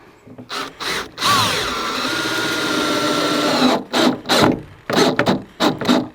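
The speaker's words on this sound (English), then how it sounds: "the trickiest part here is getting these screws started at an angle" A power drill drives screws at an angle into a simple wooden chicken toy, with one long steady whirring run followed by several short bursts of the motor spinning up and stopping.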